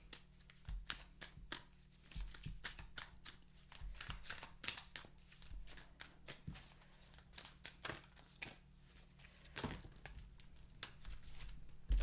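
Soft, rapid riffling and slapping of tarot cards being shuffled close by, running in quick irregular bursts with small pauses, quiet and with no talking.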